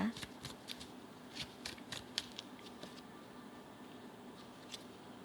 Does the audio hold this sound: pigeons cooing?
no